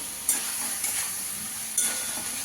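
Kashmiri chilli powder and spices sautéing for a rohu fish curry, a steady soft sizzle with a few brief stirring scrapes, close and alone with no talk.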